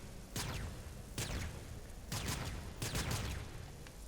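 Several spaced blasts from the Boar Prime shotgun in Warframe ring out at moderate volume, four or five separate reports with short gaps between them.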